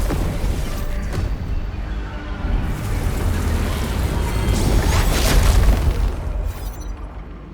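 A loud, dense rumbling explosion fills the scene as an anchor is destroyed in the video game Arknights: Endfield, with a sustained crashing roar that swells toward the end and then tails off.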